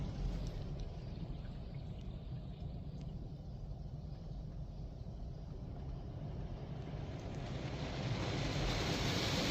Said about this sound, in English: So we are now rinsing by the looks of it.